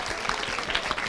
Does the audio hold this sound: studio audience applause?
yes